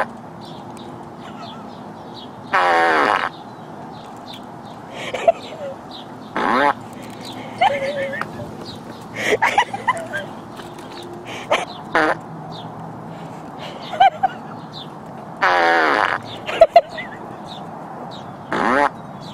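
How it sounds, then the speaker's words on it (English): A fart machine sound effect plays in short bursts several times, each a loud buzzing blat, with a dog's yips and brief squeaks scattered between them. "what she does when she hears the fart machine"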